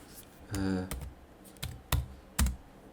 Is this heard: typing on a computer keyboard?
yes